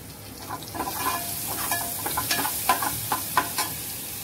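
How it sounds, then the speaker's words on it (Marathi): Mustard seeds and cumin sizzling in hot oil with asafoetida for a spicy Pandharpuri dal tempering, a close crackling fizz with repeated sharp pops and spoon stirring throughout. "थोडीशी मोहरी घालायची आपल्याला, थोडंसं जिरं घालायचंय"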